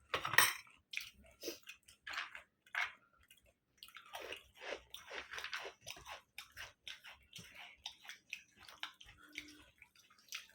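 Close crunching bites of crispy fried bori lentil dumplings, a run of sharp crackly chews in irregular bursts with short quiet gaps, loud at first and gradually softer.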